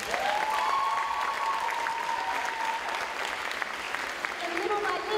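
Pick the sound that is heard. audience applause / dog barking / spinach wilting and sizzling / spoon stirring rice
audience applause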